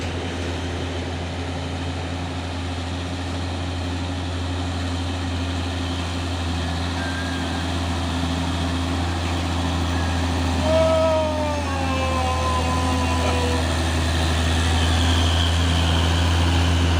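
A Fuso Super Great box truck's diesel engine idles steadily nearby, a continuous low rumble with faint tonal shifts partway through and no talk.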